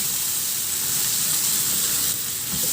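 Tomatoes sizzling in a frying pan while being stirred, a dense steady hiss close up with faint stirring scrapes beneath.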